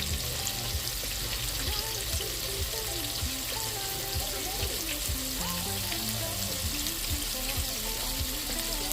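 Steady, loud sizzling of shrimp frying in a pan, a continuous crackling hiss with faint background voices underneath.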